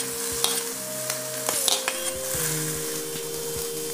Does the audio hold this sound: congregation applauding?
no